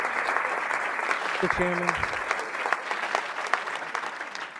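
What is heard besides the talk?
audience applauding at a school board meeting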